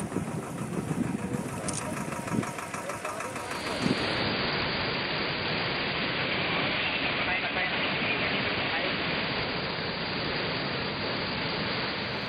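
Floodwater pours through three raised gates of the fully filled Chittakoduru reservoir on the outskirts of Jangaon town, a loud, steady broadband roar that runs unbroken through the whole stretch, with some mixed sounds in the first few seconds.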